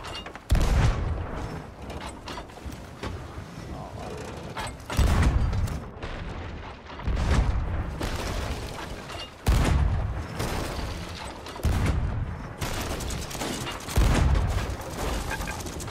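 Ship cannons firing bombs in the Sea of Thieves game, heard as a series of heavy booms roughly every two seconds over a constant din of battle noise.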